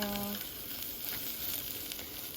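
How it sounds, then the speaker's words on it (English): Seasoned lentils fry in a pan with a soft, steady sizzle, faint and even throughout, and a brief tonal sound at the very start. "I'm gonna let this sizzle for a little bit more, and I'm gonna stir it as it does."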